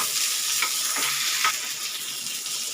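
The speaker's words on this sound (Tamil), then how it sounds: "வெங்காயம் பச்சை மிளகாய் பூண்டெல்லாம் வதங்கட்டும்." Onion, green chilli, garlic and tamarind sautéing in a pan for chutney, giving a dense, even hiss of oil close by with faint soft stirs, and no voices.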